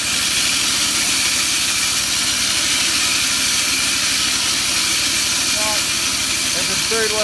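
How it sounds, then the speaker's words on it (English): A reel mower backlapping, with grit grinding between the reel and bed knife under a loud, steady engine drone and broad hiss that stays constant throughout, close and dense with no pauses. "you can hear the noise of the grit between the reel and the bed knife."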